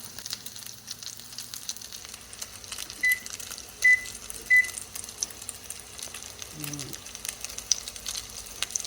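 Breadcrumbed fish frying in a pan, a soft steady sizzle running throughout with a few short beeps partway through, no talk over it.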